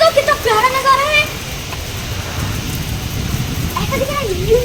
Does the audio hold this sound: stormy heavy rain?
yes